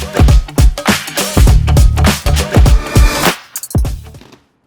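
Close, loud crunching of a cheese and tomato packaged snack being bitten and chewed, a quick series of crisp cracks that thin out and stop near the end.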